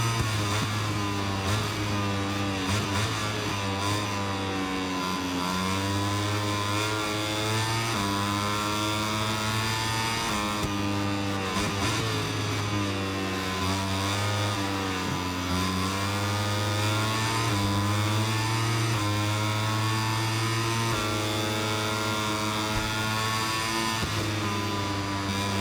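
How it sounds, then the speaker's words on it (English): Motorcycle engine in MotoGP 25 racing game, a steady loud high-revving whine with shifting pitch as a bike closes in from behind, continuous throughout with no talk. "You can still hear a bike closing on me from behind."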